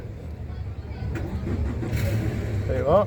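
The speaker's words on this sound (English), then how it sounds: "So we now got the engine running." A boat engine at a Swansea water festival cranks over on the key and catches into a low, steady rumble close by, with people talking over it.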